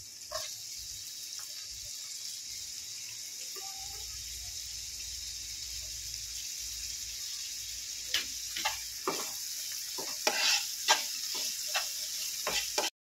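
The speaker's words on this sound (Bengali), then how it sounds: "হালকা বাদামি করে ভেজে নেব পেঁয়াজটা" Chopped onions fry to light brown in a pan, a constant close sizzle that turns busier in the second half with frequent clicks and taps of stirring.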